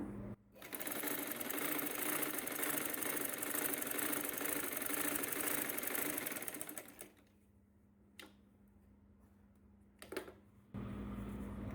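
A sewing machine runs a continuous stitch along a half-inch line on a saree blouse lining, loud and steady for about seven seconds, then stops, followed by a few brief bursts and a low hum.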